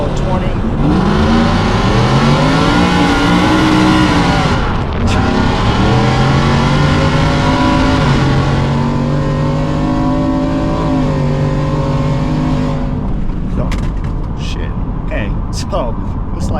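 A slammed, supercharged 2023 Ford F-150 4WD short-bed pickup with traction control off and no weight in the bed roars loud and close through a hard launch, the engine climbing, dipping, then pulling again for most of the stretch before easing off.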